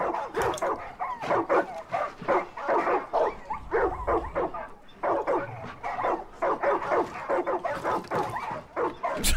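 Several dogs bark inside a building in the video game Far Cry 5, with rapid, repeated yaps and barks overlapping in a frantic, continuous burst that stays close and loud throughout.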